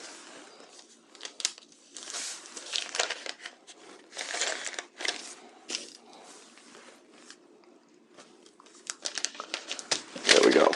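Muslin fabric pieces being folded by hand, soft irregular rustles and crinkles close by, rising and falling with the handling, under quiet talk.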